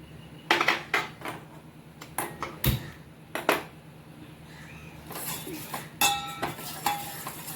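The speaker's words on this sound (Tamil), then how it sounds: "இப்போ 2வது ஒரு பாத்திரம் வச்சு இந்த அகரகராவை அதில் சேர்க்கேன்." A metal cooking pot is set down as soaked agar-agar goes in for a grapes milk jelly sweet, with sharp intermittent clinks and clatters of utensils, some loud and close, in a quiet kitchen.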